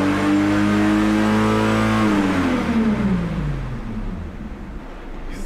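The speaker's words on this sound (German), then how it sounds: "Das Mechanische, was du hörst, ist die Kupplung." Turbocharged Golf 4 R32 engine revving hard and close, the high sustained note then dropping as the revs fall away, with a mechanical clutch rattle underneath.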